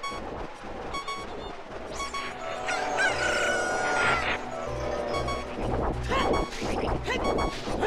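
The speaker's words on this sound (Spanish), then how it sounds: "Cuervos." Crows caw in The Legend of Zelda: Ocarina of Time on the Nintendo 64, during a desert crossing, with harsh game sounds and music layered underneath.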